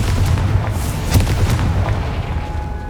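A Confringo blasting spell explodes in Hogwarts Legacy, a loud booming blast followed by crackling bursts and rumbling debris, close and dense throughout the short burst.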